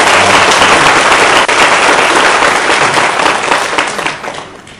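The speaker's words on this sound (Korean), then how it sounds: "다시 한번 팀장 박수로 드립니다" A church congregation applauding, dense sustained clapping from many hands filling a large room, loud at first and then tapering off toward the end.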